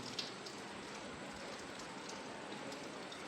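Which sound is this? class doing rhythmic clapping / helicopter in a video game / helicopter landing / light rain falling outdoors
light rain falling outdoors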